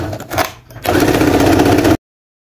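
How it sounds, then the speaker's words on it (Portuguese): A sewing machine stitching the seam of a vintage square-neck bodysuit with puff sleeves, a short close whirring run of about a second after some brief handling noise, then stopping abruptly. "Eu vou ter que começar costurando de baixo, tá?"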